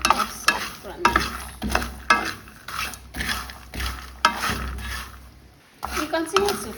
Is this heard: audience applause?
no